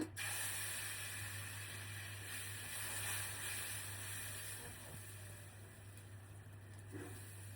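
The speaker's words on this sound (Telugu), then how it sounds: "పెసరట్టు అయితే వేస్తున్నా" Pesarattu (green gram dosa) batter sizzles on a hot pan, giving a steady, close hiss with a low hum underneath that holds evenly throughout.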